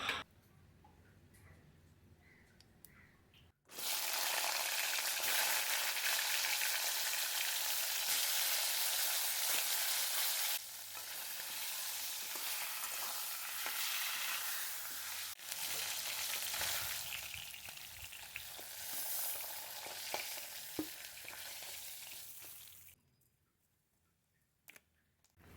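Fish heads coated in salt and turmeric fry in hot oil, a dense steady sizzle that starts abruptly, runs loud and continuous with a brief dip midway, then cuts off to near silence.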